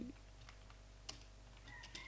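Fingers tap quietly on a computer keyboard while writing text in MS Word, a few soft, irregular clicks with one sharper key strike, faint over a low room hum.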